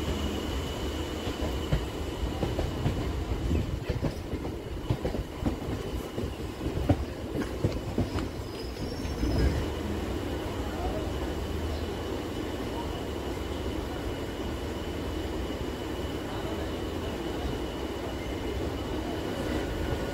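An early-morning Sealdah–Dankuni local train in West Bengal rolls along with steady rumble and rhythmic wheel clatter, loud and continuous for the whole stretch, a brief squeal-like whine riding over it near the start.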